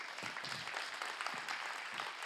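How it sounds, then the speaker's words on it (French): An audience at a talk on trust and agile teams claps together in a steady, moderately loud round of applause that continues throughout with no talking. "qu'on applaudisse très très fort"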